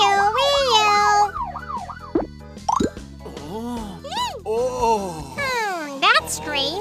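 In an animated Halloween kids' story about a police car, a cartoon voice imitates a police siren with swooping wee-oo pitch slides, mixed with bouncy sound effects and music.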